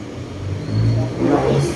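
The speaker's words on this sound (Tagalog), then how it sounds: "Maganda ang ikot ng motor." A pump motor, freshly packed with new grease during a cleaning, spins with a steady mid-pitched whir that swells louder partway through, heard close and alone.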